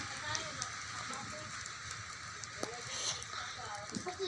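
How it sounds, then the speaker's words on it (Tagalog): Heavy rain pours down in a dense, continuous hiss with scattered drops and patters, while someone talks quietly beneath it. "Kusog ang ulan dire."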